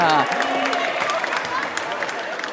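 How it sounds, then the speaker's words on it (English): A crowd at a U19 bouldering qualification competition in Sukoro cheers and applauds loudly and steadily, a dense wash of voices and clapping, with a commentator's voice faintly mixed in. "Happy crowd cheering"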